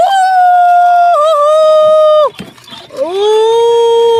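Toy dogs give out a loud, sustained electronic howl with steady tones that bend downward, break off briefly, then start up again with a rising swoop and hold.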